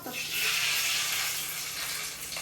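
Hot oil with fenugreek seeds sizzles steadily in a pan, a continuous bright hiss at moderate level with no voices over it.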